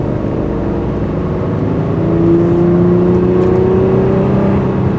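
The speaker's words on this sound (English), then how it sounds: "If you think it sounds like a Nissan 350Z, you're correct. It's got the same engine, and it is a screamer." A 3.5-liter V6 engine in an Infiniti G35 sedan, the same engine as the Nissan 350Z, revs up, its pitch rising and holding in a loud, smooth howl that grows louder partway through.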